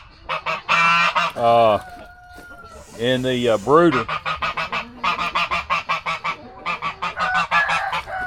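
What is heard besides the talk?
goose honking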